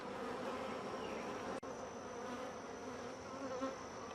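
Honey bees buzz steadily around an open hive during a colony inspection, a dense close drone filling the scene with one brief dropout midway.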